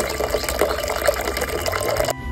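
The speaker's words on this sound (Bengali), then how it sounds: "এখন 1 ভাগ লিকুইডের সাথে 5 ভাগ জল মিশিয়ে ডাইলুট করে নিচ্ছি।" Water poured into liquid organic pesticide to dilute it at one part liquid to five parts water, a steady splashing, gurgling flow that runs unbroken and close by, then stops abruptly near the end, with no talking.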